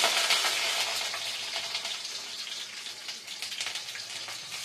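Dried chilies frying in hot cooking oil in a pan, a steady bright crackling sizzle that starts strongest and gradually eases, close by and with no talking.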